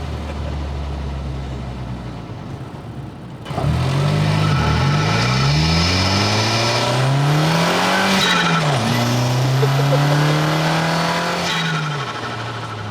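Turbocharged car, shown alongside a Volvo 850, accelerating hard, its engine note climbing loudly through several gear changes with brief dips between shifts and a faint whistle at high revs, close by, with no talk.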